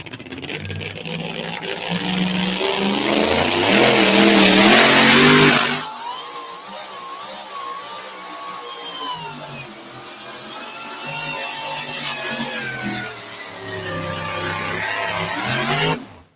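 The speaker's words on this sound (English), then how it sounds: "Something not quite sounding right in that truck." A loud truck engine with something not sounding right revs hard for several seconds, then drops to a lower, uneven running note that rises and falls before surging again.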